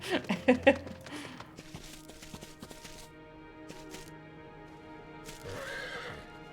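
A horse whinnies loudly at the start in the game Final Fantasy XIV, followed by soft clopping hooves and faint ambient tones, with a short rustling swell near the end.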